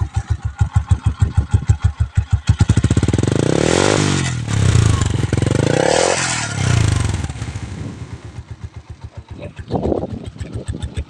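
A Honda TMX 125 motorcycle engine with a chicken pipe exhaust, close and loud, puttering at idle and then revving twice in rising, falling surges before settling back to a rough, pulsing idle.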